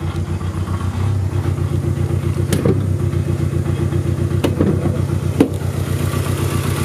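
A 2.2 liter 16 valve turbocharged inline-four car engine idles steadily and loudly up close, its even low rumble broken by a few sharp clicks or rattles, with no voices.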